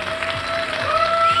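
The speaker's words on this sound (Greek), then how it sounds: "θέλω το πιο ζεστό σας χειροκρότημα" Audience applause for a band at a Christmas Coca-Cola concert event in Gazi: dense, steady clapping and crowd noise that fills the whole moment at close range, with a faint sustained tone running through it.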